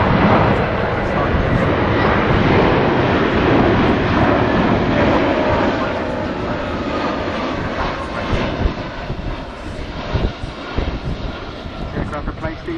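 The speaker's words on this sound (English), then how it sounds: "And here she goes, flown by Squadron Leader Richard Beaton" A Royal New Zealand Air Force Boeing 757-200 flies a display at RIAT 2009, with a loud, broad jet engine roar that slowly fades, buffeted by wind, as a commentator talks over it.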